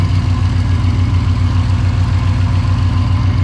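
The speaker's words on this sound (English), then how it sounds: "You just hear the engine running." A large engine idles steadily close by, giving a loud, even low rumble with a regular pulsing beat and no voices over it.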